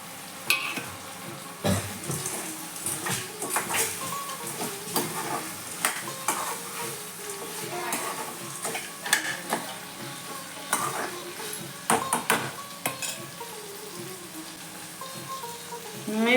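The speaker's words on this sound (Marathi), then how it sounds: "आता वडी टाकूया।" Urad dal vadi frying in a pan, a steady sizzle broken by repeated scrapes and knocks of a spoon stirring against the metal, close and fairly clear.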